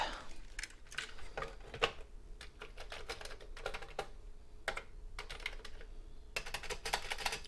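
Keys on a Commodore VIC-20 keyboard clatter in quick irregular bursts of typing, close and fairly quiet, with short pauses between runs of keystrokes.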